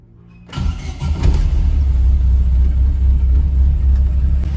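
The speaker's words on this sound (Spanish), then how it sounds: "Escuchen cómo arranca ahora." Chevrolet Corsa Classic with new spark plugs cranks briefly and fires into a loud, steady low idle rumble that holds close and even to the end.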